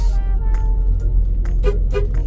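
Traffic drones on steadily on a curving road near Taal Volcano while a few short car-horn blasts cut through near the end, over a constant road rumble.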